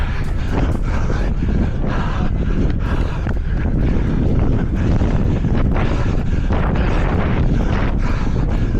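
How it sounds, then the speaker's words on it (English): Strong wind buffets the microphone throughout a running race, a loud, continuous roaring rush with gusty surges and no pauses. "the wind down that straight was like the eye wall of a hurricane"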